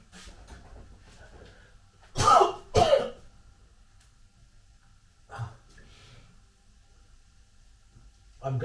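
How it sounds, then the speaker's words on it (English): Two close, harsh coughs in quick succession, followed later by a softer cough and another starting at the end, over quiet background. "It must be the ginger that's making me cough."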